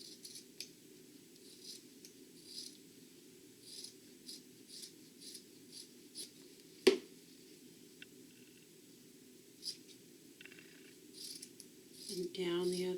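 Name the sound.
scissors trimming fabric edges and corners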